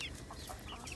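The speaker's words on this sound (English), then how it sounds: "I picked up these chickens." Chickens on a farm clucking in a brief, busy burst, several birds heard close together in a quick overlapping chatter.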